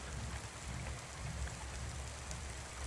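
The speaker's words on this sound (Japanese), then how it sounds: "とにかくこの世界は雨が止みません。" Steady rain pours throughout a night scene in the video game Cloudpunk, a dense, even wash of falling water with no breaks, fairly soft and continuous with no one talking.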